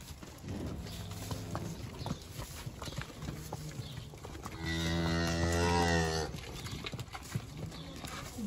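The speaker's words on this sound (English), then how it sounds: "The cows came flying out" Cattle lowing on a crop farm, one long loud moo standing out near the middle over steady background noise and scattered earlier calls.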